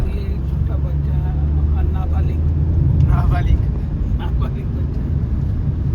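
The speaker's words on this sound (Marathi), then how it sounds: "तो गाडी कशी चालवते बघा जरा. घाट उतरवताना चढताना." A family car descends and climbs a mountain ghat road, with a steady engine and road rumble running throughout, while people talk inside the vehicle.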